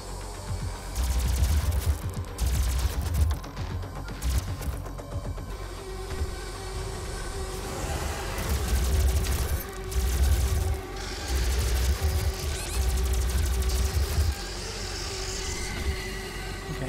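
Gunfire in the video game DOOM, repeated heavy bursts of rapid shots thumping in clusters with pauses between, loud and close over a droning background of engine-like rumble.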